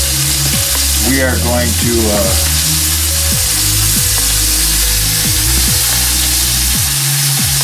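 Onions browning in a pan with a steady, loud sizzle and crackle throughout, with someone talking over the frying and a low hum underneath.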